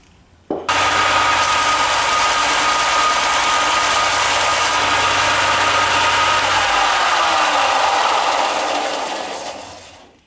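Belt sander fitted with a 120-grit belt sanding a DIY box mod enclosure, starting abruptly, holding a loud steady whine and grinding for about nine seconds, then spinning down and stopping.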